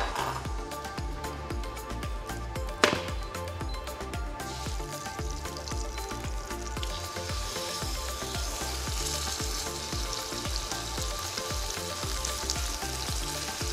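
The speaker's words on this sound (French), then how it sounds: "Et là, je vais bien saisir l'entrecôte." Thin marinated beef entrecôte searing in a hot pan, with a steady, close sizzle that runs unbroken throughout, one sharp clink near the start, and no talking.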